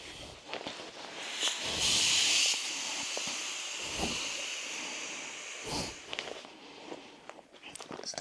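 Air hisses steadily out of an opened valve on a rolled-up sleeping pad or winter backpacking gear, a close, sustained rush lasting under a second amid soft rustling and handling noises.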